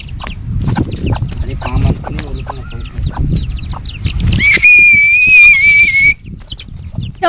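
Chickens cluck and squawk nearby in agitated bursts, frightened by a very large kite being flown, joined by high shrill whistling tones midway and some voices in the background.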